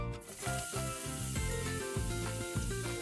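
Buffalo mince tipped into a hot pan sizzles steadily, a continuous close hiss running under background music with a tonal melody.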